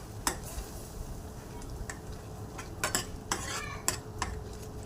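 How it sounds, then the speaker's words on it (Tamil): A utensil stirs cooked lentils into a pan, with scraping and clinking against the metal and a low sizzle beneath, a few sharper knocks scattered through. "இப்போ நம்ம வேக வச்ச பருப்பு எடுத்து இதில் ஊற்றிக்கலாம். ஊற்றி நம்ம நல்லா இதை மிக்ஸ் பண்ணிக்கலாம்."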